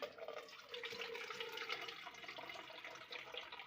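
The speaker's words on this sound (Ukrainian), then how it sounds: "І зараз трихопсин сюди влиємо." Liquid Trichopsin is poured into a humate fertilizer mix in a steady, close, continuous splashing trickle with no pauses and no talking.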